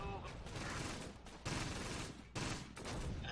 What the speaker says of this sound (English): These guys are still getting shelled.